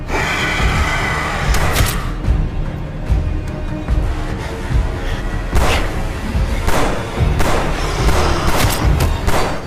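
Loud gunshots crack out in irregular single blasts in a Hindi-dubbed Hollywood action film scene against clones, over a dense, rumbling action soundtrack.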